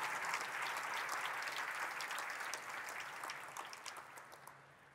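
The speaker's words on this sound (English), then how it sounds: "one more round of applause for Andy" Dense audience applause at the INBOUND 2023 conference keynote, a steady broad wash of many hands clapping that gradually thins and fades across five seconds, with no voices over it.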